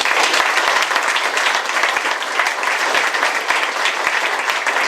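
Crowd applause for Bill Magnarelli at a Syracuse Inner Harbor hotel announcement, a loud, sustained roar of many people clapping, even and unbroken throughout.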